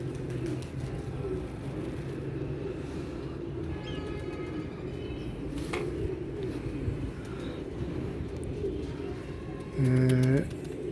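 A high-flying racing pigeon coos in a short, deep burst near the end, loud and close, over a constant murmur of background noise with faint bird chirps earlier.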